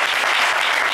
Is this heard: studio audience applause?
yes